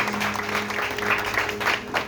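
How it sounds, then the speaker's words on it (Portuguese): Church congregation applauding during a service, dense clapping with a faint sustained tone underneath, short and steady. "Aplauda mais uma vez, Senhor."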